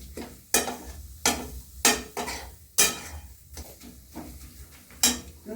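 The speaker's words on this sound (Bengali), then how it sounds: "আগে থেকে চিনিগুলো দিয়ে এরকম চিনি আর নারকেল চটকানো হয়" Sugar and grated coconut being worked in a pan for a coconut sweet, with a spoon scraping and knocking the pan in about eight sharp, regular strokes under a low background hum, no talk.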